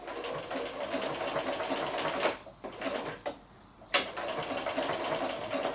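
A domestic sewing machine runs a blanket stitch around fused fabric applique for quilting, a steady mechanical whir at slow speed with two brief pauses where the stitching stops and restarts, close and alone with no talk.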